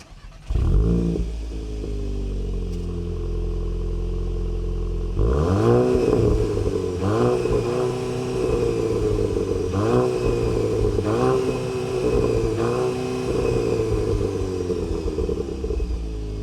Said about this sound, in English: the Volkswagen GTI has a dual exhaust system that's chrome tipped